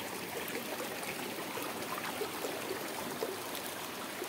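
Clear mountain spring water trickles and flows steadily at a spring on a hiking trail to Kawah Ratu crater near Bogor, a soft, continuous, close babble with no voices.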